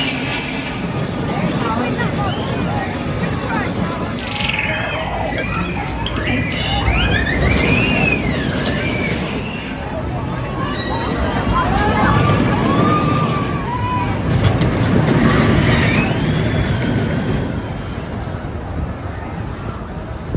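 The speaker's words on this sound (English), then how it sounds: "So just come off our ride on the green screen here at Adventure Island, the Zia Tivoli coaster." Riding the Green Screen, a Zierer Tivoli roller coaster at Adventure Island: rushing wind buffets the microphone over a rolling track rumble, with riders' shrieks and voices rising and falling through the run.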